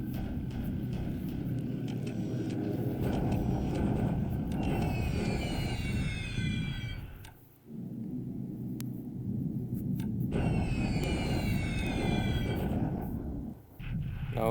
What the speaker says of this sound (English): Now it's army bombers.